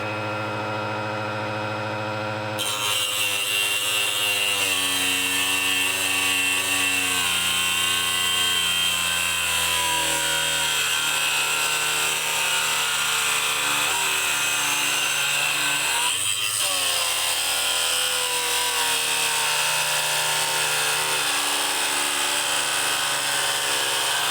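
A chop saw in a screw-cutting fixture slices through custom-sized screws, its loud motor whining steadily for about twenty seconds after a brief quiet start, with a short dip in pitch partway through.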